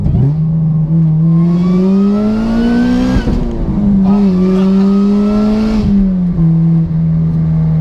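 A supercharged 2011 Honda Civic Si accelerates on the road, its engine droning loudly and rising in pitch, with two gear shifts breaking the climb, heard from inside the car.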